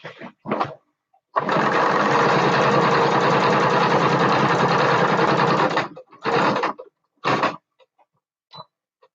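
A sewing machine stitches a bat plushie: one sustained, loud motor whir lasting several seconds, then a few short separate bursts of stitching close by, with no speech.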